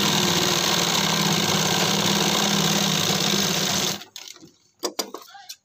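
A sewing machine running a loose basting stitch along a kurti collar hums steadily and loudly for about four seconds, then stops, leaving a few soft handling clicks and fabric rustles.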